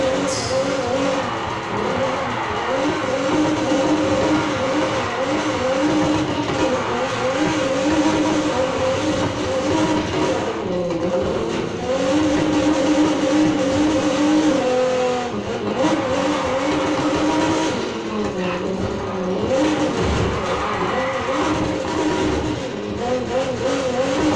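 A 1977 Pontiac Firebird races in the game Need for Speed Heat, its engine roaring and revving continuously with rising and falling pitch through gear changes and corners, loud and sustained.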